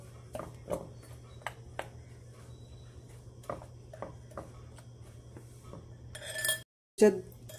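A spoon mixing fenugreek vada batter in a bowl gives a series of light clinks and taps against the bowl. Quiet stretches fall between them, and a brief louder rustle comes near the end.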